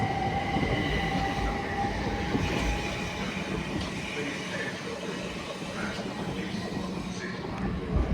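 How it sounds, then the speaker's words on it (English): A pair of South Western Railway class 444 units bound for Weymouth pass through Clapham Junction, giving a steady loud rumble of wheels on track with some brief squeals and clatter, and a voice talks over it. "another pair of South Western Railway 444s coming down, bound for Weymouth"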